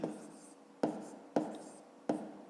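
Pen or pencil writing out numbers for a 5th-grade math exercise, close and quiet, with four short strokes or taps spaced about half a second apart and a faint scratchy rub between them.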